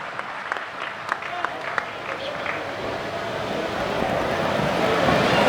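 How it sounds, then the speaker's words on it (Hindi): An audience at a Hindi comedy poetry gathering applauds in a dense, steady wash of clapping that swells slightly louder toward the end, with some distant crowd murmur underneath. "जोरदार तालियों से आमंत्रण दें संजय शुक्ला जी आपके मध्य"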